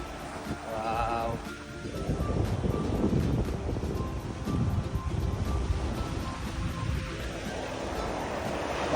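Ocean surf rolling onto a beach, a continuous rushing wash of waves mixed with gusty wind buffeting the microphone, fairly loud and close with a faint voice briefly near the start.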